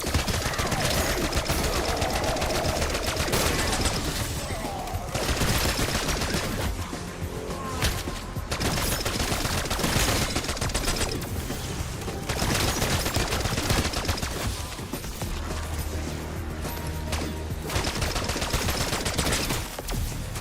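Gunfire from the DM-10 rifle in Black Ops 6 rattles nonstop, mixed with explosions and crashes of battle in a loud, dense wall of game combat sound.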